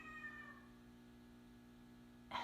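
A single short meow from a house cat cuts in at the very end over a faint, steady background hum indoors; close and brief.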